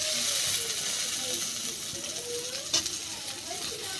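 Dried mango pieces sautéing with spices in a pan give a steady, close sizzle and hiss, with a few faint scrapes of stirring near the end.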